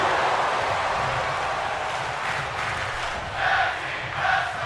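A video game wrestling crowd cheers in a steady, dense roar that swells briefly twice near the end, with no talk over it.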